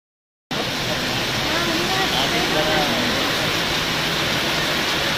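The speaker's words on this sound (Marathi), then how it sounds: "पाऊस खूप सुंदर आलाय" Heavy rain pours down as a dindi procession sets out from Vibhutwadi. A dense, steady hiss starts abruptly and carries on without a break, and faint voices sound beneath it.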